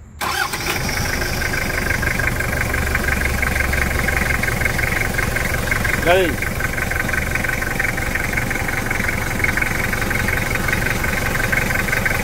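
A Toyota Hilux truck engine cranks and catches, then settles into a steady, loud idle close by, with a brief mechanical whine partway through and a short spoken remark at the start.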